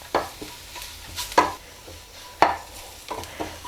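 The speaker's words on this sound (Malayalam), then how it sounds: "ഈ പൊടികളുടെ പച്ചമണമൊക്കെ മാറുന്നത് വരെ നന്നായിട്ടൊന്ന് വഴറ്റിയെടുക്കാം" A spoon stir-fries chilli powder and turmeric powder in a pan. Several distinct scraping strokes land about once a second over a faint, steady sizzle, close and clear with no talking.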